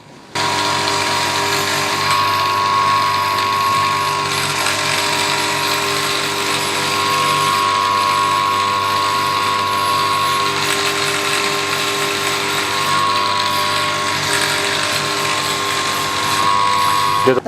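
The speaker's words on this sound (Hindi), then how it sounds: "ये जो ग्राइंडर है इससे अभी हम इन होल्स की फिनिशिंग करेंगे।" A handheld grinder finishing four drilled holes in a sandal sole, giving a steady, loud mechanical whir with a ratcheting, slightly rising and falling pitch that runs continuously throughout, no voices over it.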